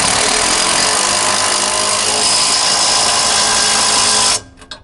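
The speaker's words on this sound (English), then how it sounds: "I'm going to use my 3/4 drill on the other side, and then tighten it up." A 3/4 power drill runs steadily at full, loud whine for over four seconds while tightening the bolt on a Harmar hitch-mounted lift, then cuts off abruptly, leaving a few faint clunks.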